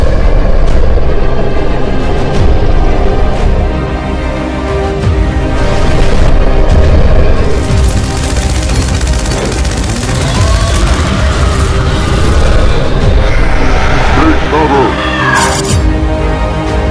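An animated battle roars with dense, continuous gunfire and explosions, loud throughout, with voices shouting over the din.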